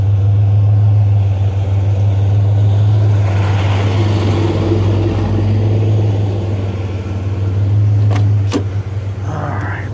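A school bus passes close by on a road, making a loud, deep engine drone that swells and then eases off. A couple of sharp clicks come near the end.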